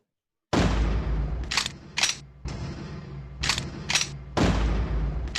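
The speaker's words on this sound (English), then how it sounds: "I think it's gunshot." Punchy gunshot-like booms hit repeatedly in a rhythmic pattern over a continuous beat, loud and close, with bright sharp bursts spaced through the track.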